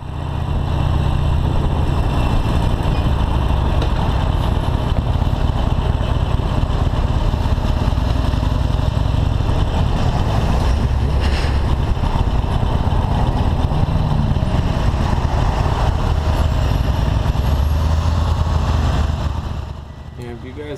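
A Harley-Davidson Forty-Eight motorcycle rolls through slow highway traffic with a steady, loud, low engine rumble and wind noise, which drops off abruptly near the end.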